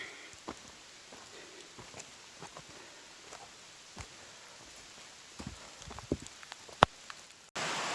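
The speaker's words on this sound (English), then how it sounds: "It just started raining" Light rain pattering on a surface at a trail shelter on the Appalachian Trail, with scattered drops and soft taps standing out against a steady faint hiss, no voices.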